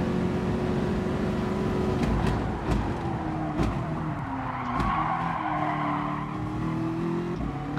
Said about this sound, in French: je suis en train de fumer mes pneus